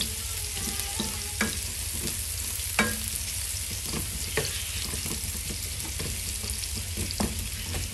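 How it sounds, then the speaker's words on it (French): Onions frying in hot oil in a pan for rougail saucisse, a steady dense sizzle heard up close with occasional stirring clicks and scrapes, no talk. "On met les oignons dedans. On laisse rougir un petit peu,"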